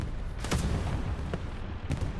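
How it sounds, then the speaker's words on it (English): Explosions boom in a Hell Let Loose battle, several short blasts of deep rumbling over a steady gritty background. "Explosion on the top left."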